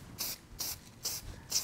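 Mold release sprayed in four short bursts of light mist onto 3D printed resin casting molds, each hiss sharp and close with brief gaps between.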